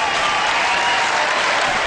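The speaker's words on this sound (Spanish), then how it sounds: "Aplauso para los ganadores" A beach crowd applauds the winners of a match, loud dense clapping that fills the whole stretch without a break.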